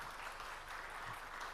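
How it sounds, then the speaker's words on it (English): An audience at a live tax training event applauds to welcome a speaker, a steady, even wash of clapping, fairly faint and distant, with no distinct voices. "let's give a big round of applause to CA Rajiv Hira"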